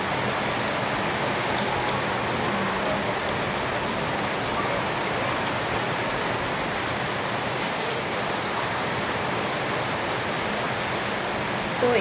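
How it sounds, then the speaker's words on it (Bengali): Water for ginger tea with jaggery coming to a full boil, a steady, loud rushing hiss that continues unbroken throughout. "তো জলটা একদম ফুটে আসছে"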